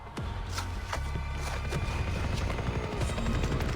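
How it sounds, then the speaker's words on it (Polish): In the Far Cry 3 video game, a helicopter drones steadily with a thudding rotor, loud and continuous, mixed with scattered gunfire-like bangs and crashes of in-game action. "Mamy helikopter."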